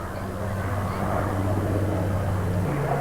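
A Fairey Firefly powered by a 2,000-horsepower Rolls-Royce Griffon piston engine passes at an air show, a deep droning propeller rumble that holds steady then shifts slightly in pitch near the end.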